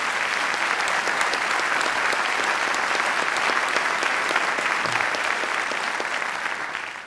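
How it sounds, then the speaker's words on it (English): Sustained applause from an audience at a governor's budget and reform presentation, a dense, even round of clapping filling the room that tapers slightly at the close. "let's give them another round of applause"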